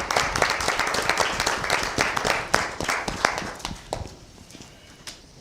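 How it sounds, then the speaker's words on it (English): An audience at a school board meeting applauds a newly sworn-in board member, a brisk burst of many hands clapping that thins out and fades within a few seconds. "Don't expect to get clapped for every time."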